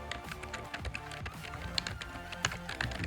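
Fingers type a client name on a computer keyboard in quick, uneven bursts of light, close key taps lasting about three seconds.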